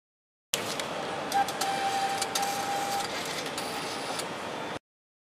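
A Hyosung ATM's receipt printer runs for about four seconds as it prints a cash slip, a steady close mechanical whir with a few small clacks, starting and stopping abruptly.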